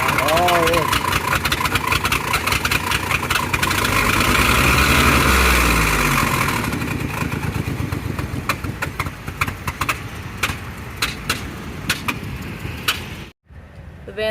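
Ford Transit van engine idling roughly with a suspected bad exhaust leak or blown-out spark plug, a steady loud running rumble that continues under people talking nearby before cutting out near the end.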